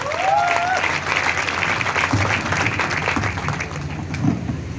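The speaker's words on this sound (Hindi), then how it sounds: "आज के आए हुए नए मेहमानों का एक जोरदार ताली के साथ स्वागत करें" Enthusiastic applause welcoming new guests at a gathering, a crowd clapping loudly and continuously, with a brief whistle-like tone early on and some murmuring voices underneath.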